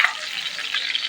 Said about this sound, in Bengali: মাছগুলি ভাজা হয়ে গেছে, এবার নামিয়ে নেব।